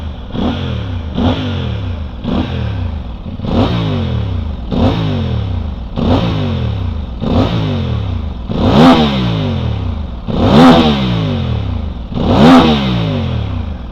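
Voge DS800X Rally motorcycle engine, warmed up, revved repeatedly by hand: about ten loud rising-and-falling blips in a steady rhythm, close up, with no talking over it.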